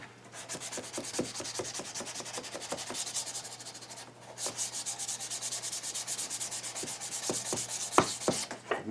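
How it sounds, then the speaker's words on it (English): Sandpaper is passed back and forth across a cherry wood box, taking dusty shellac off its surface. The strokes are close, rhythmic and scratchy, broken by a short pause midway, with no speech. "a little bit of the top layer of shellac and dust comes off, just passing the sandpaper across it"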